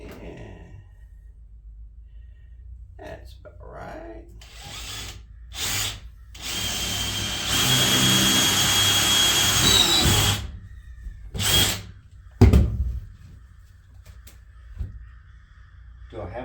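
A power drill drives deck screws into a trailer floor during a floor repair. Several short whirring bursts come first, then one longer sustained run, and crows caw nearby.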